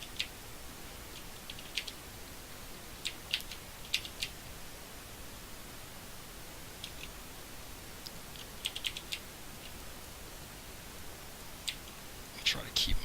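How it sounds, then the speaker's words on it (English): Keys on a loud mechanical keyboard click in scattered, fairly quiet bursts over a hushed background, with some quick runs of several keystrokes during a Path of Exile gaming session. "I got a loud mechanical keyboard, so if I start pounding the keys, it gets a little bit loud."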